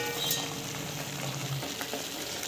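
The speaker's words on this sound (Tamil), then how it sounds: "ஜஸ்ட் வந்து கொஞ்சம் வதக்கிட்டு நல்லா வந்து பச்சை வாசம் போகிற வரைக்கும் நல்லா வதங்கணும்" Chili powder and spices sauté in a pan with a steady hiss and light crackle, close and fairly loud, a brief stir near the start, no speech.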